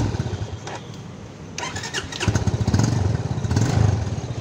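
A Yamaha FZ25 motorcycle, sitting in neutral and low on fuel, cranks briefly with the starter, then catches and settles into a close, throbbing single-cylinder exhaust idle.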